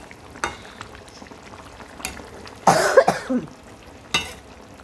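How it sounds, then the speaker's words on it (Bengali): A person coughs a few times in a kitchen, short harsh bursts standing out over a faint simmering of fish curry with potato, cauliflower and peas. "কাশি হচ্ছে"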